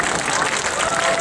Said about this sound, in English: Let's give a warm round of applause for Senator Wiener